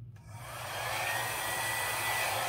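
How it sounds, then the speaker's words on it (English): A small hair dryer set on low is switched on and blows over acrylic paint, starting with a click and then settling into a steady, close whooshing hum that fills the clip. "Got my little hair dryer, and I'll just try it on low and see if that's enough to"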